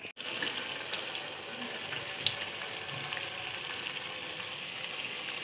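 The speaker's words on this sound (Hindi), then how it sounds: "अब हल्का सा पानी जो है खुश्क हो जाए तो इसमें ऑयल डाल दूँ।" Oil sizzles and fries steadily in a pan while a curry is cooked, a continuous bright crackle with a close, even texture and no talking.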